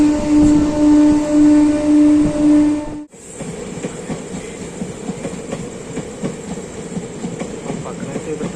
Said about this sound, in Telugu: పక్కనైతే ఏదో ట్రైన్ వెళ్తుంది